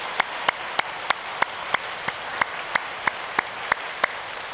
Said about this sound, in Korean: 우리 어른들에 대한 감사한 마음으로 우리 박수로 감사의 마음 전하겠습니다